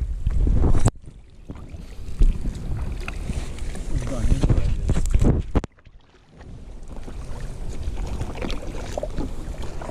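A boat passes on the water, seen from a kayak, as a steady rushing, wind-buffeted drone that swells and drops, with a brief sudden gap midway; nearby voices talk over it.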